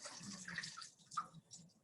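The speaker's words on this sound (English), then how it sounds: "I'm going to use a funnel to put some water in it" Water poured through a funnel into a container, a close, quiet trickling and splashing that runs steadily for a couple of seconds with small surges.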